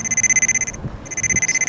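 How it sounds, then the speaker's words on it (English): A wire tracer's rapid electronic beeping pulses steadily, pauses for a moment amid faint handling noise, then resumes at the same fast rhythm. "Hear that beeping?"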